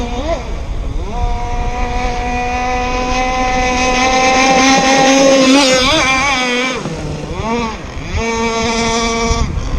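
A ZippKits Vbox model boat runs on the water, its small motor giving a loud, high buzzing whine that rises and falls as it turns and speeds past close by, with wind noise and no talk.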